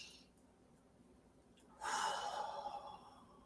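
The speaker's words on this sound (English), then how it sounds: "And this is where I start to do some breathing" Breathing during a relaxation exercise: a quiet pause, then one deep, audible breath out that swells and slowly fades, close up and with no speech.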